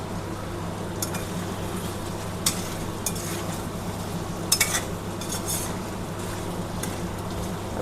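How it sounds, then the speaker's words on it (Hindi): Chicken fries in a pan with ginger garlic paste and three green chillies, giving a steady low sizzle. A few faint clinks and stirs of a utensil against the pan come through. No talking. "चिकन हल्का फ्राई हो गया है।"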